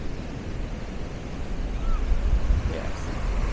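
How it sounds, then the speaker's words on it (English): Rough ocean surf crashing on the coast at Lynn, Massachusetts, a heavy low rumble of waves with wind buffeting the microphone, swelling slightly midway and continuing steadily. "There's the angry ocean."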